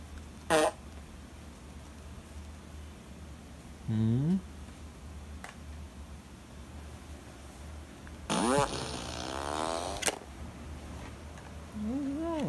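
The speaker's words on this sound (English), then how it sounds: "You don't like fart machine?" A toy fart machine lets out several loud, buzzy fart noises of varying length, one long drawn-out blast near the end, set in a quiet room with a pit bull present.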